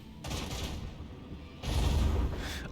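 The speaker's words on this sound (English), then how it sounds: "Alright, so let's fire the dorsal cannons here." Dorsal cannons fire during starship combat in Warhammer 40,000: Rogue Trader, two heavy booming volleys with a rumbling roar that swells, fades, then surges again.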